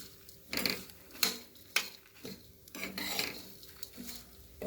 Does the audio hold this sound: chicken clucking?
no